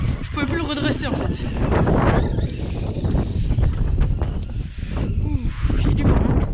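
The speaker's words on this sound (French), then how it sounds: "Ouf, il y a du vent." Strong wind buffets the microphone in loud, rough gusts outdoors during a remote-control car jumping session, with a voice speaking partly beneath the roar.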